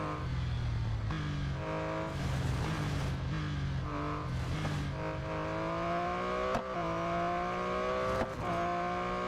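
A Porsche Boxster's engine races in the Real Racing 3 video game, a steady loud whine that climbs in pitch and drops sharply at each gear change, repeating several times with no talk.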